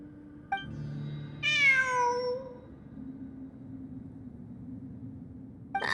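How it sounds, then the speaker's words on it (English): A cat in the Genshin Impact video game gives a single clear, rising-then-falling meow near the middle, close and distinct over a low steady ambient hum, with a brief chime before and after. "It really is a cat."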